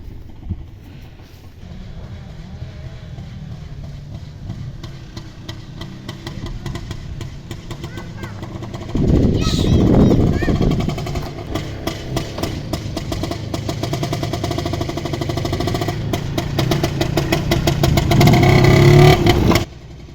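A vehicle engine drives nearby and turns around on a foggy autumn day, a low steady hum that swells sharply midway and stays louder with revving until it cuts off.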